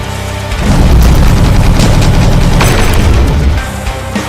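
Rockets exploding in a video game as a sustained, loud rumbling boom that swells after a quiet start and holds for about three seconds before fading.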